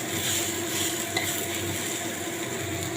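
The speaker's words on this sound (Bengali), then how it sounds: "এখানে আমি পেঁয়াজগুলো ভাজছি, দেখো একটু লাল লাল করে দেবো" Steady sizzling of onions frying in a hot pan, a continuous crackling hiss with an occasional faint stir, no voices.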